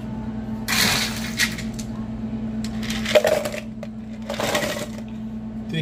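Ice cubes scooped and dropped into a cup for a medium Dunkin iced cinnamon vanilla coffee, a few clattering bursts over a steady machine hum in a busy shop.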